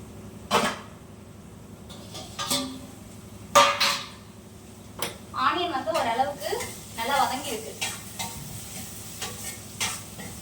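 Onions sautéing in a pan for a home-cooked Sunday fish curry, heard as stirring scrapes and soft sizzling in bursts, with speech in between.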